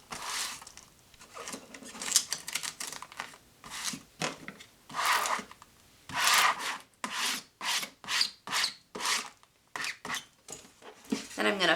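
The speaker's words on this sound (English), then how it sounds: "Then I'm going to flip it over and burnish it from the front as well." Vinyl stencil cut on a Cricut being burnished onto a screen printing screen, a series of rhythmic scraping rubs, close and clear, in quick repeated strokes with brief pauses between.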